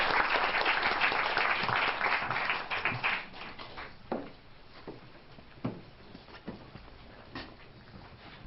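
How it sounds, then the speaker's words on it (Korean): A seminar audience at a theology lecture in Busan claps to welcome the speaker, with dense applause for about three seconds that thins into scattered claps and fades. "이제 나오셔서 발표해 주실 때 여러분들 큰 박수로 환영해 주시기 바랍니다."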